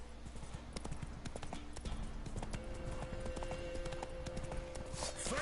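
Hooves of Roach, the horse in The Witcher 3, clip-clop in a steady galloping rhythm, close and continuous, with game ambience behind and a faint tonal hum.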